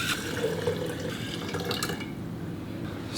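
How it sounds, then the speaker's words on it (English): Water runs and splashes steadily into glass sprouting jars at close range, a continuous pouring hiss with drips, no voices. "Next thing we got to do is fill these with water."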